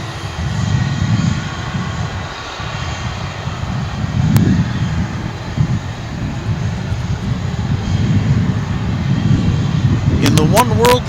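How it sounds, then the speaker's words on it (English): Japan Airlines Boeing 787-9 Dreamliner in oneworld livery arriving at DFW International after a long flight from Tokyo Haneda, a steady low engine rumble that grows slightly louder, with a few brief clicks and a chirp near the end. "It's Japan Airlines Flight 12 from Haneda Airport in Tokyo. It is a 787-9 Dreamliner."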